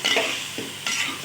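Chicken sizzles in a pan while being stirred for five minutes, with a few quick scraping strokes over a close hiss.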